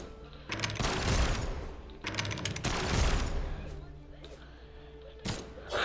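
Guns in Brawlhalla, a 2D fighting video game, fire in dense rapid bursts, two long volleys with short gaps and a final sharp burst, loud and close.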